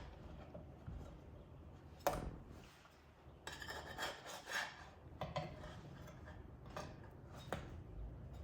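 A spatula scrapes and clatters against a pan while flipping vanilla or chocolate peanut butter protein pancakes, giving several sharp scraping strokes and knocks at close range, with no talk.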